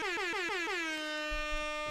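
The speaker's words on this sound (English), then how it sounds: "a lot of foghorn" An air horn blasts in several quick, loud pulses that descend in pitch, then settles into one long sustained tone, close and alone.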